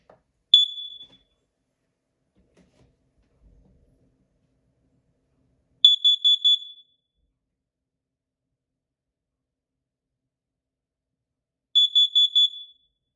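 A Kidde Nighthawk KN-COP-DP carbon monoxide alarm being tested gives one short beep, then two bursts of four rapid, piercing beeps about six seconds apart. It is close and loud in a quiet room.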